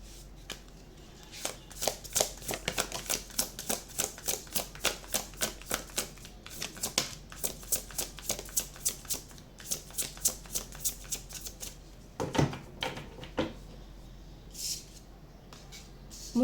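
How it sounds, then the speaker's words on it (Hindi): A deck of cards shuffled rapidly and continuously for a numerology reading, dense riffling flutters close to the mic, broken by a few sharper snaps and short pauses as cards are drawn. "यहाँ पे 8 9 वालों का भी मैं और भी कार्ड्स निकालना चाहती हूँ"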